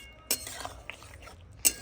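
A metal lid lifted off a pot of simmering bottle gourd curry in a home kitchen: a light clink, a few soft scrapes and a second sharp clink near the end, close and quiet.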